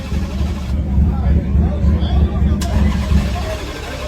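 Drag race car at a quarter-mile lineup revving with no exhaust, a loud, raw, rumbling engine that surges and holds, with onlookers talking nearby.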